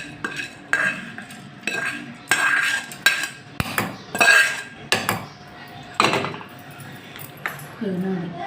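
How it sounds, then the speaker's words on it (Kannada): Cooled chutney mixture being spooned into a mixer jar, with a run of sharp metallic clinks and scrapes of a spoon against steel at an irregular pace, heard up close. "ಈಗ ನಾನು ಮಿಕ್ಸಿ ಜಾರಿಗೆ ಇದನ್ನು ಸರ್ವ್ ಮಾಡ್ತೀನಿ."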